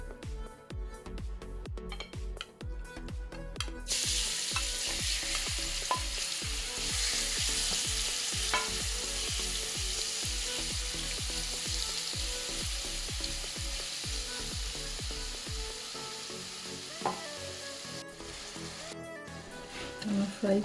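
Battered cauliflower or zucchini chops frying in hot oil, a steady loud close sizzle that runs almost unbroken, with irregular clicks and taps early on and a few utensil knocks later.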